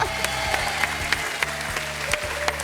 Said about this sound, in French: On applaudit Nicole.